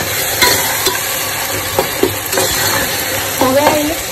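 Chopped onions and tomatoes fry in a pan for egg biryani, a steady sizzle broken by the scrape and clatter of a spoon stirring, heard close with no talking.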